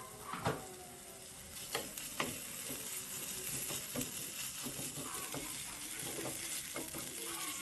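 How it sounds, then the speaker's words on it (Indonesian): Spice paste sizzles steadily in a little virgin coconut oil while being stirred, with a few sharp scrapes early on over a continuous close frying hiss. "Ini bumbu halusnya kita akan tumis."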